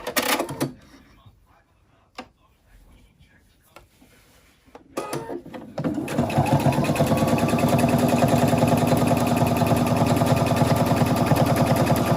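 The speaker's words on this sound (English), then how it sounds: "here we are back at the sewing machine, and now we are just going to stitch some straight lines" A few scattered clicks and handling noises, then a sewing machine starts up and runs in a steady, loud mechanical whir for the last six seconds.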